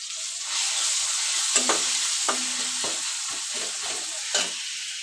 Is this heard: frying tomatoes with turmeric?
yes